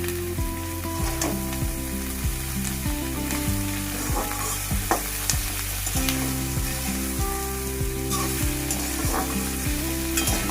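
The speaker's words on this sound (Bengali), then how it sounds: "এবার আমি নাড়াচাড়া করে করে পেঁয়াজটাকে ভেজে নেব।" Sliced onions fry and sizzle in a pan while being stirred again and again, a constant hiss broken by repeated scraping strokes of the spatula, with faint background music and no talking.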